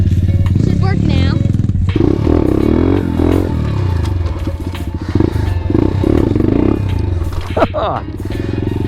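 A pit bike engine runs close by with a rough, loud idle and revving surges, under overlapping voices talking.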